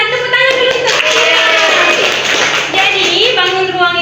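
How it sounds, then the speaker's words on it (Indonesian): Students in a classroom clap together in a sustained round of applause that runs loud and steady throughout, with children's voices mixed in. "Iya benar, tepuk tangan dulu."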